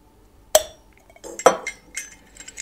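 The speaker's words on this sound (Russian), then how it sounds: "на нее идеально встает кофеварка" An Esbit camping coffee maker is set onto its small metal stand, giving a sharp metallic clink followed by a few lighter knocks and rattles as it settles, close and clear with no talk.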